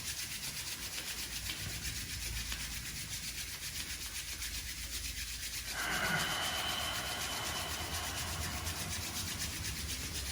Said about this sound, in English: Let's rub in between the fingers to really stimulate, energize the nerves in the fingers all the way to the tips.